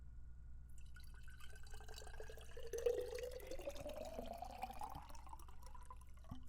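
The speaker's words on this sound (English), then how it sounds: "I gotta pour more water" Water pours steadily into a container, with a faint trickle that swells into a rising, ringing tone as the vessel fills, close and alone without talk.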